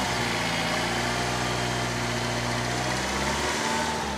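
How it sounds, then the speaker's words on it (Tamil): A red Tata Vista petrol engine runs close and loud with a steady, droning hum that dips slightly near the end, with no voices over it. "இவ்வளோதாங்க ஆவரேஜான வண்டியினுடைய இன்ஜின் நாய்ஸ் தான் வந்து இருக்குது."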